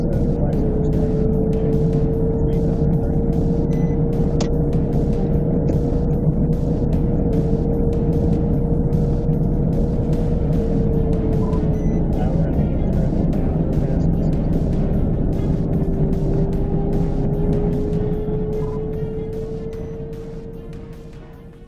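A sport motorcycle accelerates away from a traffic stop during a police pursuit, its engine a steady, loud drone with a slowly rising pitch that lasts throughout before fading toward the end.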